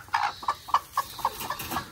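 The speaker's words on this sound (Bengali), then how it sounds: "মুরগিটা এভাবে মাশাল্লাহ ভালো আছে," A broody hen gives a close, regular series of short, low clucks, about four each second, with no other sound over them.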